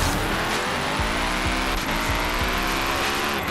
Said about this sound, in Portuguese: Vamos dar um rolê aqui com essa... com essa picape aqui, ó. Tentar fazer um drift